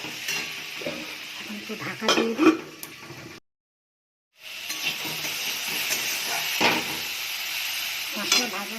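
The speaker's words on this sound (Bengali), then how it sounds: "দিয়ে ভালো করে ভেজে নেব।" Spices with salt, turmeric, chilli, cumin and coriander fry and sizzle in a pan while being stirred, hissing steadily with scraping bursts, then a brief pause before the sizzling resumes; someone speaks briefly over it.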